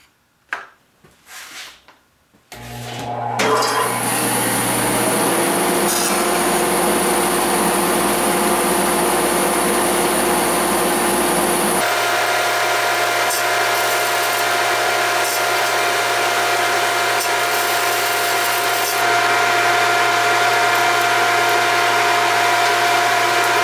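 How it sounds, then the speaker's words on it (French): A band saw whirs up after a few knocks and runs steadily for a long stretch, its loud high whine shifting pitch partway through as it cuts wood. "J'installe ma scie à ruban et on fait ça."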